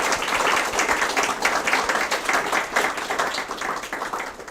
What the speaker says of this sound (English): let's give another round of applause for Dr. Lee